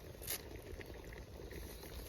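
Nellore-style fish curry simmering in a covered pot, a faint steady bubbling with a brief lid rattle near the start.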